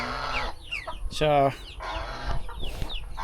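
Incubator-hatched chickens on a Philippine farm cluck in close, irregular bursts, with one louder, drawn-out squawk in the middle. Someone speaks briefly in the background.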